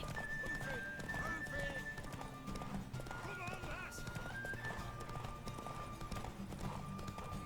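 Hooves clip-clop steadily from a horse ridden in The Witcher 3, with whinnies and layered game music and effects under someone talking throughout.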